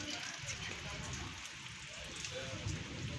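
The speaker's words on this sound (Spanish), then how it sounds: "Y está lloviendo." Rain falls steadily as a dense, soft hiss, with scattered drops pattering on a surface throughout.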